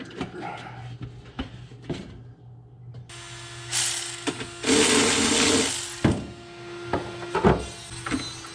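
A small tombstone grinder whirring loudly in bursts while working on a 1967 Ford F100 heater core job, mixed with sharp clanks and ratcheting clicks of tools and brief talk nearby.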